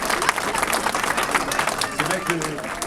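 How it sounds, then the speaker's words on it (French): An audience at a street-naming ceremony for Place Rav Israel in Sarcelles applauds steadily throughout, with a voice speaking over the clapping near the end. "on peut l'applaudir aussi"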